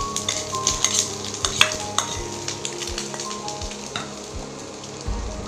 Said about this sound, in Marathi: हे घालून चांगलं परतून घेणार आहोत।